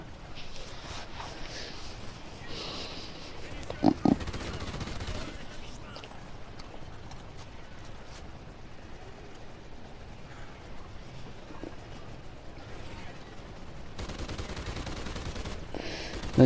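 Gunfire from a turret and guns in an extinction-mode shooter video game, rapid fusillades rattling under someone speaking, with a couple of sharper bangs standing out.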